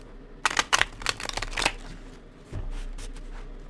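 Tarot cards shuffled up close, a run of crisp riffling snaps and flicks in uneven bursts, then a low thump and quiet rustle at the end. No one speaks.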